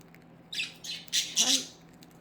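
Pet birds give several harsh, loud squawks in quick succession, close by, with a person's voice faintly mixed in.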